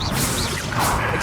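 Bombarda blasting spell cast in Hogwarts Legacy, a brief whooshing crack with a swishing tail over a steady game soundscape, no talk.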